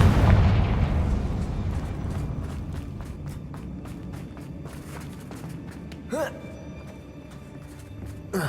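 A Confringo spell explosion in Hogwarts Legacy booms loudly at the start and rumbles away over several seconds, followed by light game footsteps and small effects.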